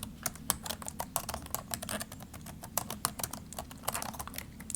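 Rapid clicking of a computer keyboard close by, irregular bursts of keystrokes typed alone without talk.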